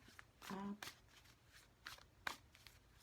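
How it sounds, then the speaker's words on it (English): A tarot card deck is shuffled in quiet, brief riffling bursts, faint and close, with a low background hum. "I'm shuffling the card right now"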